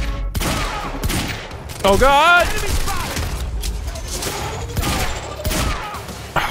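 Rapid bursts of gunfire in the video game Quantum Break, loud and repeated over game sounds, with a man exclaiming in alarm partway through.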